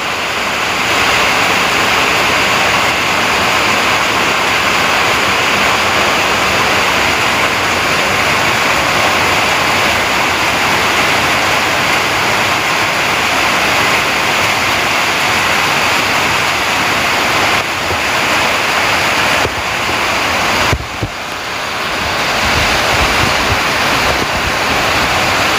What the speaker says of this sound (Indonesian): Deras teman-teman, hujan angin.